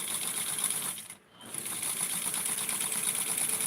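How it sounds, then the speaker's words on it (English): A freshly oiled sewing machine stitches tulle for a Barbie dress in a fast, steady mechanical whir, stopping briefly near the middle before running on close by. "I do have to mention that I oiled my machine. Yeah, she's sounding much nicer."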